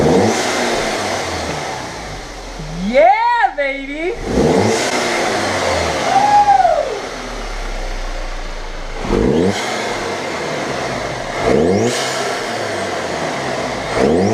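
A warmed-up Audi B8.5 engine fitted with a new intake and a diverter valve spacer revs sharply twice, rising and falling, then settles to a steady idle with a couple of lighter blips. The engine is loud and close, and a man cheers briefly.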